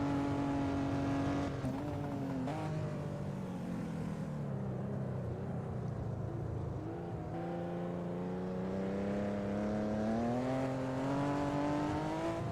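Engines of 1958 Formula 1 cars in a racing simulation at the Argentine Grand Prix, a steady loud drone with pitch rising and falling through gear changes as cars lap slower traffic, no voices.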